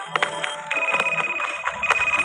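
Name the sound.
phone ringing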